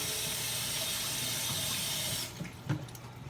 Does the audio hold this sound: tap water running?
yes